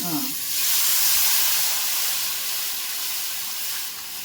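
Telugu-style fish curry made with tamarind bubbles in a pot, giving a steady, close, continuous hiss and sizzle that swells slightly early on and holds evenly, with a faint low murmur at the very start.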